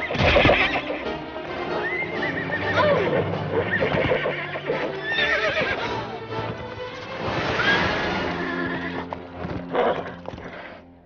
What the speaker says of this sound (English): That horse is still pretty wild